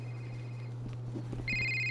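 A ringing phone in the Blair Witch horror video game, its electronic tone cutting in near the end of the short moment over a steady low hum, with soft footsteps before it.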